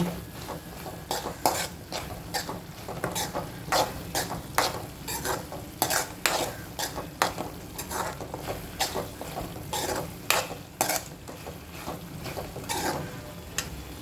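Masala for a green field bean curry fries dry in a pan while a utensil stirs and scrapes it in repeated strokes over a low, steady sizzle, with no one speaking.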